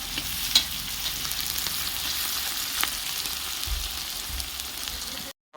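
Vegetables fry in hot oil with five-spice seeds, bay leaf and dried chillies, a continuous bright sizzle with occasional stirring clicks, close and steady before cutting out abruptly at the end.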